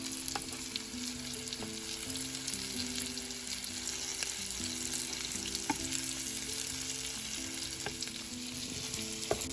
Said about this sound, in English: we'll just cook them on medium heat until they're golden